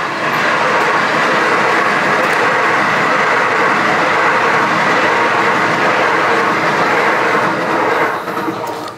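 A train rolls past close by near a station, a loud sustained rumble and rattle of rail wagons that holds steady for about nine seconds before easing slightly at the end, with no speech.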